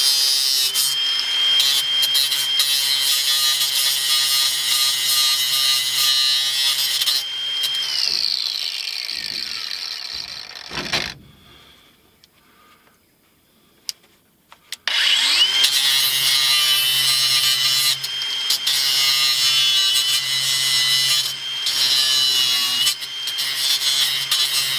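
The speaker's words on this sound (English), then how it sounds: "Let me just grind them off" A power grinder takes small metal pieces off the bed of a 1979 GMC truck, a loud, close, high-pitched whine that cuts out briefly halfway through and then starts up again.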